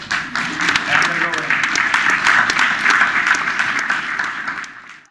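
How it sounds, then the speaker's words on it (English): A crowd breaks into applause at a community event, swelling quickly into a steady wash of clapping that holds loud and even, then drops off abruptly at the close. "give yourself a round of applause"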